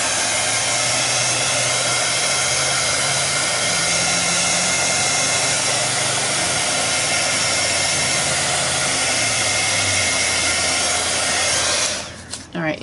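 A hair dryer blows continuously and loudly up close while drying paint, a steady whirring roar with a shifting low hum that cuts off near the end.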